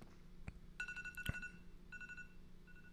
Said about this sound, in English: Is that your phone going off again?